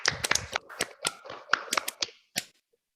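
Scattered claps from an online audience of unmuted participants on a video call, a couple of seconds of uneven, sparse clapping that quickly fades to silence.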